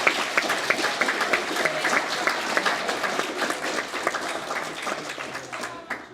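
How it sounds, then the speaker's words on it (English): A group gives a team lead a round of applause at a gathering for an art project. Dense, lively clapping holds for several seconds, then thins and fades at the end. "I want to give another clap to my team lead"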